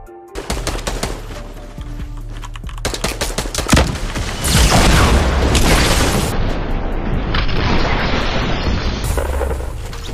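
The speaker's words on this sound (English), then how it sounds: "I think I got rocketed in the back." Fortnite gunfight with a rocket blast, loud rapid weapon fire followed by a heavy booming explosion that rumbles on for several seconds, close and with no talk.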